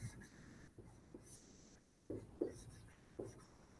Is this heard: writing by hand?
yes